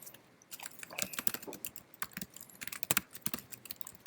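Code typed on a computer keyboard in a console window, a quick irregular run of clicky keystrokes with a few pauses, close and moderately loud with no talking.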